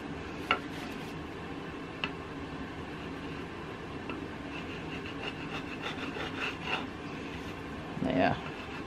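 A straight edge scrapes paint off a painted mat to create a chippy, shabby chic finish, giving soft, steady rasping and rubbing close by with a few brief louder scrapes.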